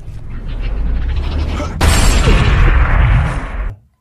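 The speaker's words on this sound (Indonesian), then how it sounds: "saat itu juga si Beben ditembak hingga modar" A gunshot in a Scott Adkins action film cracks in sharply and loudly partway through, then a dense burst of noise and rumble carries on for a couple of seconds before cutting off abruptly.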